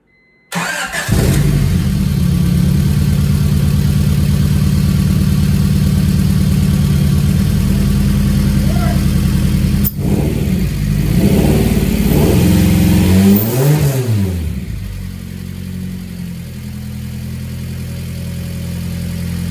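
A 1995 Honda Prelude fourth-generation engine cranks and catches, then settles into a loud, steady idle close by before a few quick revs rise and fall near the end.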